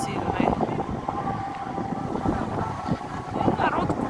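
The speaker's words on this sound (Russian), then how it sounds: "уже отлив случился, но волны большие, ветер сильный." Strong wind and big waves roll onto an Arabian beach resort at low tide, a loud, continuous roar of surf and wind buffeting the microphone, with faint voices underneath.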